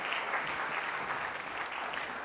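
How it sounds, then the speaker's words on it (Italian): Studio audience at a live TV contest final gives a sustained round of applause, a steady, fairly soft wash of clapping without voices. "Ancora un applauso a Massimo e a Fabrizio."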